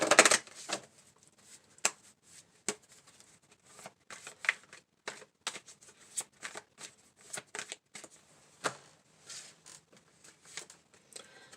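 Close, crisp shuffling of an oracle card deck: an opening riffle, then a steady run of short slaps and flicks with small gaps.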